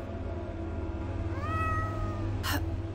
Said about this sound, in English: What on earth are you doing down here, you silly cat?